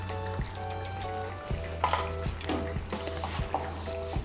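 Egg curry with coconut, garam masala powder being stirred in, making soft frying and scraping sounds under a steady background of recurring tones.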